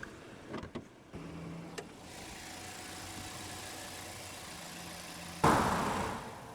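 A 2020 Audi Q5 with a TFSI 2-liter turbocharged inline-4 idles steadily at close range, a low even hum after a few brief clicks, swelling louder near the end, with no talking.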